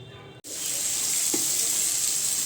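Potatoes frying for aloo posto give a steady, close sizzle that begins abruptly and holds, loud and even, with no voices over it.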